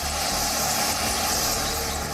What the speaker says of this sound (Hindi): अपाचे फाइटर हेलीकॉप्टर भारतीय वायुसेना का सबसे ताकतवर हेलीकॉप्टर है